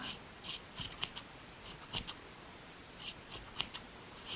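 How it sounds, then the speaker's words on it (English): Scissors trim crochet yarn on an amigurumi fox keyring in a series of crisp, close snips, some in quick pairs, separated by short quiet gaps. "I'm going to trim this white one down, and then we're just going to trim it into shape a little bit to make it more fluffy."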